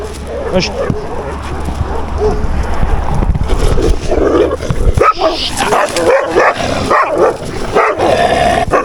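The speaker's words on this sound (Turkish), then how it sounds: "Güzel bir parktı ama hala köpekler havlıyor." Street dogs bark and yip in bursts outdoors in a park in Tunceli, mixed with people talking nearby and scattered background noise.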